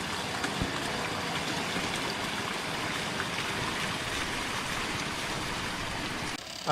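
Water flows steadily past a wooden water wheel that lifts irrigation water for rice paddies, a continuous close rushing and splashing with no talking, ending in a brief louder knock.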